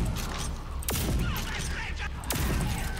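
A Rage 2 shotgun firing slugs lets off two heavy, booming blasts about a second and a half apart over a busy, dense layer of game noise.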